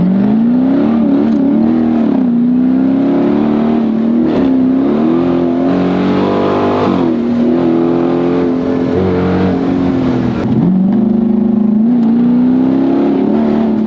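Engine-swapped Chrysler 300 Scat Pack revving loudly and continuously while driving, its strong droning note rising and falling through gear changes and cornering over about fourteen seconds, with no talk.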